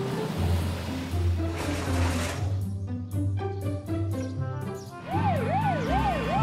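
Fire engine siren from a toy car cartoon for babies, a rising and falling electronic wail cycling several times, loud and alone over steady background music, with bright hooting tones in the first seconds.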